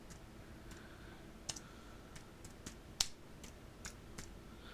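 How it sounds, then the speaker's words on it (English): Taps on the Sony Xperia Z Tablet's keyboard, a sparse run of light, quiet clicks spaced irregularly across a soft background hiss, with one sharper tap standing out. "I'm just going to use the keyboard here."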